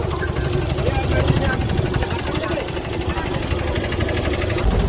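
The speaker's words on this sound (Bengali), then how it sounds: "এই যে এই ঘাট থেকে বোট ছেড়ে দিল।" A motorboat engine drones steadily and close as the boat pulls away from a river ghat on the way to a wedding in the Sundarbans, with voices talking over the low rumble.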